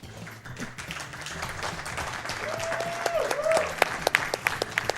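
Audience clapping at a charity speedrun marathon event, a steady ongoing round of applause with sharper individual claps toward the end, a voice briefly audible underneath.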